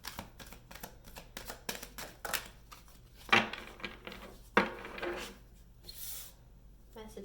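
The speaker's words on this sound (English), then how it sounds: "One last shuffle." Tarot cards shuffle close by in a quiet room, with soft riffling and several sharp snapping bursts as the deck is cut and squared.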